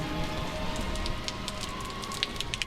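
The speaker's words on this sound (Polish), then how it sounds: "Pada deszcz." Steady rain falls in Milan, a constant hiss of drops on surfaces with occasional sharper patters close by, no voices.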